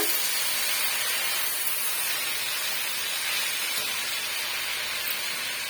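Small spinach greens (siru keerai) being stirred and sautéed in a pan give off a steady, even hiss of steam and frying, close and continuous with no talk.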